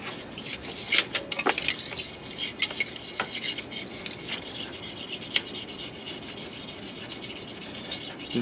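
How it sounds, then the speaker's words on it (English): A tool scrapes old silicone gasket material off an Audi A4 oil pan in continuous rasping strokes, close and fairly loud, with small clinks of metal throughout. "Scrape off the old gasket material, the silicone."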